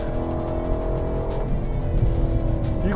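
Cadillac CT5-V Blackwing sedan under hard acceleration, a loud, steady engine roar from inside the cabin that holds a dense low drone for the full three seconds, with faint tire noise late on and no talking.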